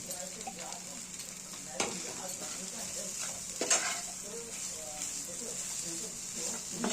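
Fried potatoes with roasted spice mix sizzle softly in a pan while a spatula stirs them, with occasional sharper scrapes against the metal over a faint, steady background hiss.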